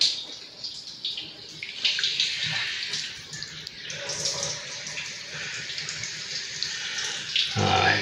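Water runs and splashes continuously, spraying and gurgling close by with shifting intensity, then briefly louder near the end.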